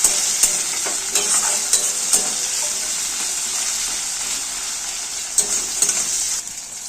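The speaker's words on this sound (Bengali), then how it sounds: "পেঁয়াজ টমেটো কাঁচা লঙ্কা ভাজা হয়ে গেছে" Onions, tomato and green chili frying in hot oil in a pan, a steady close sizzle with occasional stirring clatters and scrapes throughout.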